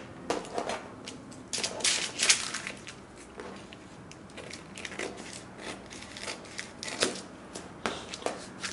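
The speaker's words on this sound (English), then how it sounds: "you want to cut this piece off" Fabric being cut with scissors for a homemade beanie, a series of close, crisp snipping and rustling strokes in uneven bursts, with no talking.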